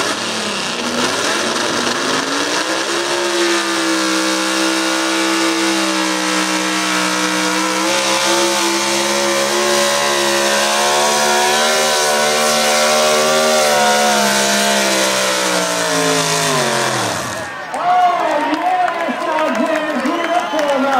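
A Chevrolet race car engine, driven by Luke Simeon, holds a loud, sustained high rev as it accelerates, its pitch climbing steadily before cutting off sharply near the end into crowd noise and a shout.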